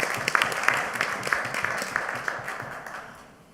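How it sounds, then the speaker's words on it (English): Audience at a regional meeting session applauding panelists, a steady broadband roar of many hands clapping that fades out toward the end. "please give our panelists a warm round of applause"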